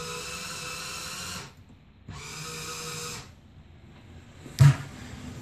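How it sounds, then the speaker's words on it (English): Drill motor in a personal submarine simulator whirring in two short bursts of about a second and a half each, separated by quiet pauses, followed by a brief clunk. "this drill motor will turn"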